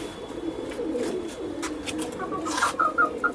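A golden pigeon coos softly nearby in a short series of low, rounded calls, with faint background noise and no talk.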